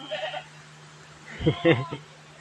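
A native goat that has just given birth bleats, a few wavering cries in quick succession near the end, following quieter sounds and soft human voices nearby.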